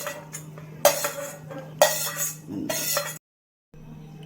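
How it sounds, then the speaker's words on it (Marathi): Boiled drumstick (moringa) pulp going into a steel mixer jar for soup: a few sharp metallic clinks and scrapes of a spoon against the jar, close and fairly quiet, with a brief silent gap near the end. "हा जो गर आहे हा गर देखील मी याच्यामध्ये टाकून घेते मिक्सरच्या भांड्यात"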